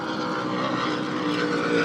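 Combined 2,800 horsepower Stotler racing engines of a powerboat at a New York super boat grand prix, a loud sustained high-pitched roar holding steady with a slight swell toward the end, no voices.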